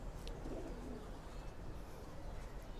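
Pigeons cooing softly nearby in a quiet setting, a few low murmuring coos over faint background noise, with no talking.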